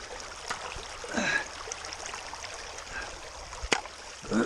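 Water runs and gurgles past a gold sluice box in a creek, close and continuous, with a few splashes and knocks rising above the flow.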